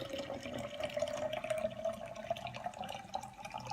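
Liquid pouring into a pint-sized glass mason jar, a soft continuous trickle with a rising gurgling tone as the jar fills, quiet and close.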